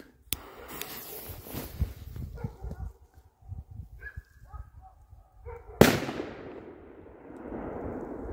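Several firework bangs and crackles from FS3-class firecrackers go off, with a loud sharp blast near the end that rings out and fades in a long echo.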